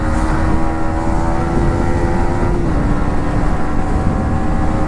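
A 2024 Yamaha MT-15 motorcycle riding at high speed, its engine giving a steady, loud drone with a sustained tonal whine through wind rush, with no talking.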